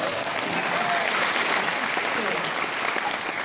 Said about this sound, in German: Applaus für Martin.